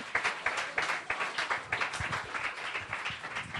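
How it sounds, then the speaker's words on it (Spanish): A congregation at a church discipleship class claps together in a short burst of applause, with quick uneven clap peaks forming a lively ragged rhythm before it settles into a softer patter. "Dale un aplauso y se lo va a dar al Señor bien dado"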